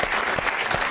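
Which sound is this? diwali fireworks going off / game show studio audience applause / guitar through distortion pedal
game show studio audience applause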